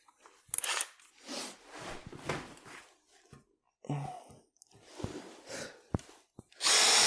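Power drill driving a screw into wood end grain during a workbench build: short bursts of motor whine and grinding separated by pauses, close and fairly loud, with clunks and a loud final burst.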